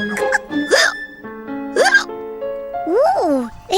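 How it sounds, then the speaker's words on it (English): A cartoon character hiccups several times in sharp, squeaky, voiced bursts separated by pauses, with background music held under them. "I've got hiccups."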